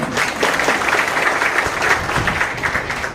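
An audience at a government education department ceremony in Sitamarhi, where appointment letters are handed to teachers, breaks into loud, steady applause that holds for several seconds before cutting off.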